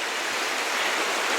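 Fast floodwater surges through a gorge, dragging trees and debris along, making a steady, dense roar of rushing water that stays loud and even throughout, with no voices.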